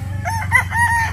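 A rooster crows loudly and close by in a short, full call from a backyard flock of gamefowl.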